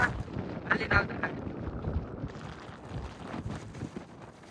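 Wind gusting across a seaside port, a steady broadband rush with a few stronger buffets early on, close to the microphone and partly like wind on the mic, with no talk.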